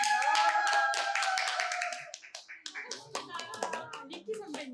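Students at a summer school retreat clap to welcome a guest speaker, a burst of hand claps that starts dense and fades into scattered claps with cheering and chatter among young voices.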